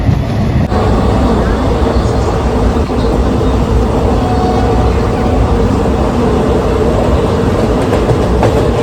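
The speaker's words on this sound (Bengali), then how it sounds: "পাশে রেখে আমাদের ট্রেন চলেছে" A passenger train runs steadily on its rails in the early morning, with a continuous loud rumble and a faint rhythmic clatter of wheels throughout. No one speaks over it.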